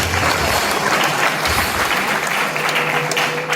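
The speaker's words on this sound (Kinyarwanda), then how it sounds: "Abakristo bafoswe mu gukomera amashyi." A church congregation at 4Square Kabuga applauds, a dense, loud wall of many hands clapping that stays steady from start to finish with no speech.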